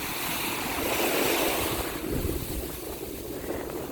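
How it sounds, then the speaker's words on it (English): Ocean waves washing up on a beach in Cozumel, Mexico, a steady close roar of surf and rushing water mixed with wind buffeting the microphone, swelling slightly midway. "I'm walking on the beach, so I'm getting rushed with water, waves"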